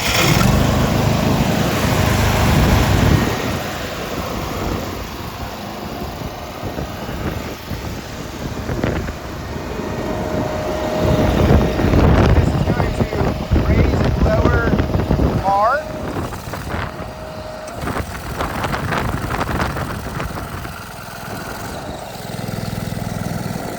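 A Ditch Witch C24X trencher with 666 hours on it fires up, and its small engine runs with a steady, rough drone close to the microphone, with gusts of wind noise over it.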